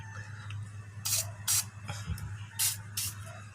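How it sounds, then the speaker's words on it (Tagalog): WD-40 is sprayed onto the bolts of a Toyota alternator under repair, four short hissing bursts in two pairs, close and fairly quiet over a low background hum. "Lagyan lang natin WD-40 para hindi tayo mahirapan."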